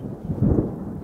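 Low rolling thunder rumbles over about a second, swelling to a heavier peak near the middle before settling, with a faint hiss like approaching rain in a desert setting.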